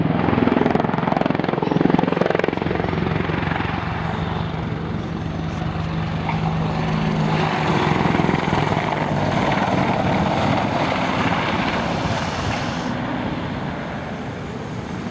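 Military helicopter flying low-level 60-degree bank turns, its steady rotor thrum and engine roar loud and continuous throughout, swelling and easing slightly as the aircraft banks.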